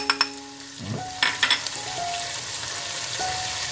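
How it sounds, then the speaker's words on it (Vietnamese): Pork kidney with ginger stir-fried in a pan with sugar and oyster sauce, giving a steady close sizzle with a few sharp utensil clinks and scraping stirs at the start and midway. "Chúng ta xào đều ra."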